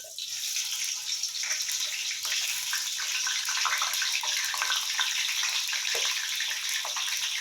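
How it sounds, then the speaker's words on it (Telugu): Onions fry in hot oil for chicken pulao, giving a continuous, close, bright sizzle that stays steady and fairly loud for several seconds, with no talking. "ఇదిగోండి ఆయిల్ వేడెక్కిపోయింది, ఆనియన్స్ వేస్తున్నాను."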